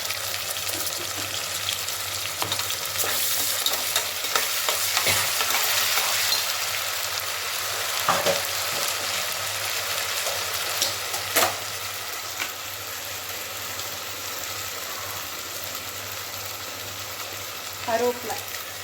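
Onions frying with ginger garlic paste in a pan, a steady soft sizzle with occasional stirring scrapes and clicks, close and continuous at moderate volume.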